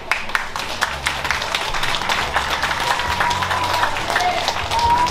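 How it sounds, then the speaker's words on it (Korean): Crowd applause at the Gangneung Danoje festival concert in 2024, a dense outdoor wash of clapping with scattered sharper claps and a low sustained tone underneath, steady and loud throughout. "박수 소리가 작으면 노래가 안 나와"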